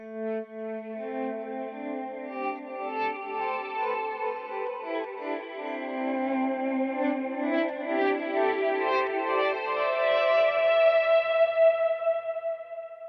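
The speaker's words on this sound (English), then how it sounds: "Let's do something like a simple dotted 8th note delay with the mono BBD." A clean guitar plays slow sustained notes through an FM3 with a dotted-eighth mono BBD delay and a Black Hole reverb, each note trailing into lush washed repeats that build and swell steadily with no talking.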